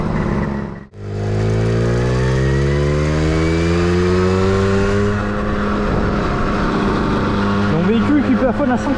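Motorized wheeled suitcase ridden along a road near Vésillon, its small engine rising in pitch as it accelerates, easing off, then revving again, loud and close.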